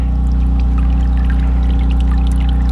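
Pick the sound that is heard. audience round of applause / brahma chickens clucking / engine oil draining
engine oil draining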